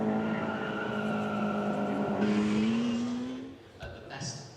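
A BMW 1600 Ti races up the hill at the Chateau Impney Hillclimb, its engine note climbing steadily through a gear before fading, with a voice speaking over it and a brief squeal near the end.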